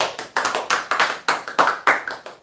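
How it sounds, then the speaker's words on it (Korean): Several rapid, sharp claps in a steady rhythm, close and moderately loud, like a small group applauding a labor union chairman at a prize draw event. "큰 박수를 모시도록 하겠습니다"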